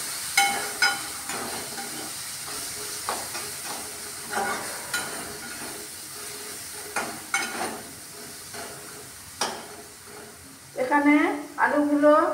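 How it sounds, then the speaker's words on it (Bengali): Fried potatoes with added sauce are stirred in a pan, with repeated scraping strokes and a soft sizzle at an uneven rhythm. A voice speaks near the end. "সস দেওয়ার পর আমি আরেকবার নাড়াচাড়া করে নিচ্ছি।"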